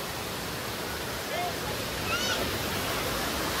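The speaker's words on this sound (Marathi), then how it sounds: "हा बघा इथे धबधबा आहे" Steady broadband rush of a waterfall beside a slippery trail at the Vyaghreshwar waterfall and temple near Pen, heard up close as continuous water noise with a couple of faint bird chirps over it.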